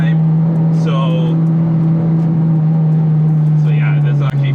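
A 9th-generation Honda Civic Si lapping a race track, its engine droning steadily and loudly at a constant pitch throughout, with a few brief higher tones and faint squeals layered on top.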